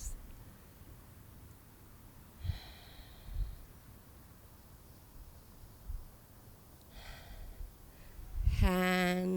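Slow, deep breaths during a yoga flow, with soft audible inhales and exhales spaced a few seconds apart over a quiet background, ending as a chime or bright musical tone rises.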